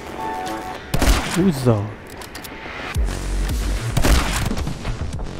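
Gunfire and grenade launcher explosions from the action game My Friend Pedro come as sharp booming bursts, a cluster near the start and more around the middle and end, mixed with a man's excited exclamations.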